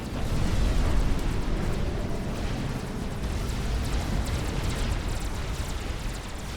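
Nuclear blast in the strategy game Supreme Commander: Forged Alliance, a long, dense rumbling roar that swells early and then sustains steadily with crackling debris, loud and unbroken.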